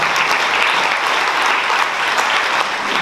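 Audience clapping for Thomas at a local political debate in Porto Viro, a loud, dense and unbroken burst of applause close by.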